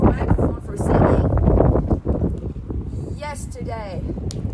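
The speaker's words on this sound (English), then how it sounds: "It's kind of windy outside." Gusty outdoor wind buffets the microphone in heavy low rumbling bursts, strongest at the start and easing later, with a person talking over it.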